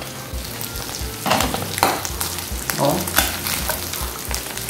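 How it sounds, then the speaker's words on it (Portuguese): Chicken gizzards frying in a pan over high heat, a continuous loud sizzle with repeated bursts of stirring and scraping, while someone speaks briefly. "tá vendo que ela tá fritinha? Deu menos de 5 minutos aqui. Lembrando que meu fogo tá alto."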